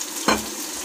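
Spiced masala of yogurt and water stirred in a hot pan for vegetable pulao, giving one brief, sharp sizzling burst followed by a softer, steady hiss.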